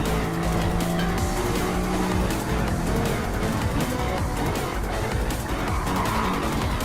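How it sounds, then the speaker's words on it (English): A race car slides through a corner with oversteer, its tires squealing continuously over a loud, sustained engine roar, close and without talking. "He kept it straight, obviously, but lost so much speed while sliding, and Reen just had perfect traction."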